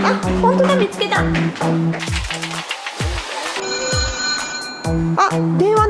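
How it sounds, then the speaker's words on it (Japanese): A telephone rings inside a phone booth in a Makuhari Messe parking lot, repeated bursts of electronic ringing in a steady rhythm, loud and close, with people talking over it. "あ、電話鳴り始めた。"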